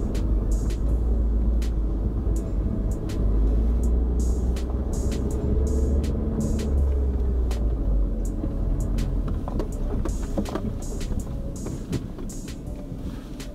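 A Suzuki Vitara descends an uneven 12-degree sand slope with a steady low engine rumble, plus a scatter of sharp ticks and knocks from the suspension and loose sand along the way.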